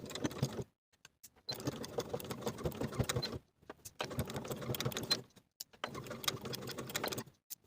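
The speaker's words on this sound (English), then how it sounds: "we're going to top stitch along the top edge of the window opening" Sewing machine top stitching along the edge of a tailored coat lining, running in three bursts of steady mechanical whirring separated by short pauses, close and moderately loud.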